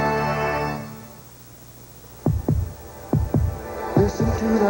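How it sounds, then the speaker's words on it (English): A heartbeat sound effect from a Chevrolet TV commercial comes in as paired, deep, thumping beats after a fading tone, fairly loud and with no talk over it. "Listen to the heartbeat of America."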